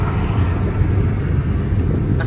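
Car driving on a road in Hurghada, Egypt, heard from inside as a loud, steady low engine and road rumble with no talking.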